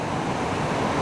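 Ocqueoc Falls, a low waterfall in Michigan's Lower Peninsula, tumbles gently with a steady, close, broadband rush of water that holds unchanged throughout, with no voices.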